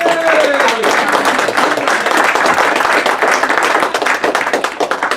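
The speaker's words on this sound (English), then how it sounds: "I think she deserves a round of applause." A room of people at a weekly meeting claps for a woman, a loud, dense round of applause that holds steady and then begins to fade, with a voice over the clapping.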